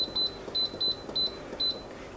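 An Instant Pot electric pressure cooker's control panel beeps as buttons are pressed to set manual mode, a run of six short, clear, evenly spaced tones, close and alone.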